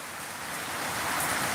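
A downpour of heavy rain makes a continuous, even hiss on surfaces nearby, gradually building a little in loudness, with no one talking.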